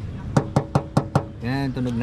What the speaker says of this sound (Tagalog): kinakatok-katok nila ng konti